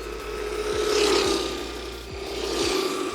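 A small 2S-powered RC car runs at full throttle, its motor giving a steady high whine with a mechanical gear rasp that swells and fades twice as it passes fairly close, with no talk.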